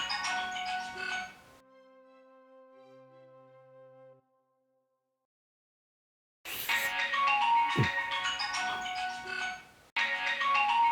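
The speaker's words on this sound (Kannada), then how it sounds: "ಇವನೇನು ಬೆಳಗ್ಗೆ ಬೆಳಗ್ಗೆ ಫೋನ್ ಮಾಡ್ತಾ ಇದ್ದಾನೆ" A mobile phone rings with an incoming call, a clear electronic ringtone melody playing alone for a few seconds before cutting off, with louder indoor sound around it.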